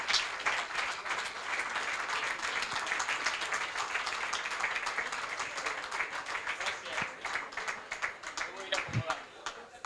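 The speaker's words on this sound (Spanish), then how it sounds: "Le pedimos un aplauso grande para los que se van y para el que viene." Audience applause greeting departing and arriving guests, a sustained crowd of hands clapping that thins into scattered claps toward the end, with voices under it.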